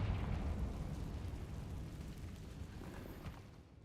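A Confringo spell explosion from the video game Hogwarts Legacy: a faint, deep, rumbling blast tail that slowly fades away over a few seconds.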